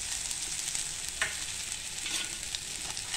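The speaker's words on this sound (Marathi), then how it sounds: "हे आपण चांगलं आता असं तेलामध्ये परतवून घेणार आहे।" Garlic and dry coconut paste frying in hot oil with asafoetida, a steady close hiss with faint crackles and a few brief stirring scrapes, no voices.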